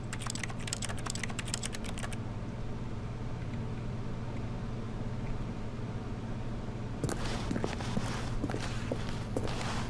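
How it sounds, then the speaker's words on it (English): Mouse clicking in the video game The Stanley Parable demo: rapid bursts of sharp clicks at the start and again at the end, with a quiet steady hum between. "left clicking gives me this clicking sound"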